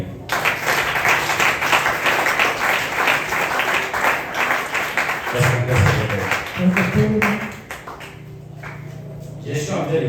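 A church congregation claps and acclaims the Lord during a service: dense, close applause for about five seconds that then thins out, with speaking voices continuing over and after it.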